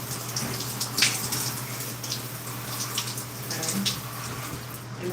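A shower head runs water onto a section of curly hair, giving a steady close splashing hiss with a few brief drips and patters, without talk.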